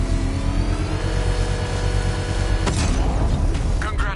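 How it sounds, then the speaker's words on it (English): A controlled bomb explosion, set off with the Batmobile's power winch in Batman: Arkham Knight, lands as a sudden sharp blast two-thirds of the way through. It cuts over a loud, steady engine drone, and crackling debris follows. "I can use the power winch to trigger a controlled explosion."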